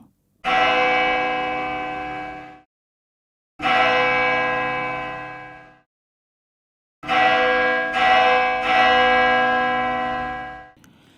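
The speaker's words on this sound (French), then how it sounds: "tandis que les cloches des églises et des autres lieux de culte ont été sonnées" Church bells in Sri Lanka ring out loud and clear in three long, resonant tolls, each swelling and slowly fading, with brief silent gaps between them and no voices present.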